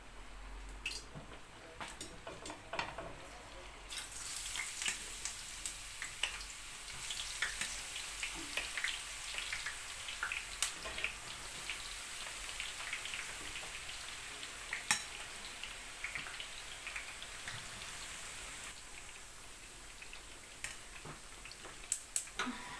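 Steady crackling sizzle of diced meat frying in hot oil, with scattered sharp pops and spits throughout, close and continuous with no talking.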